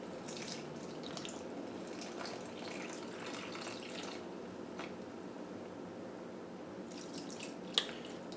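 Water poured into a container on a kitchen scale while preparing sourdough, a soft, steady trickle and splash that continues for several seconds, fairly quiet, ending in a single small clink.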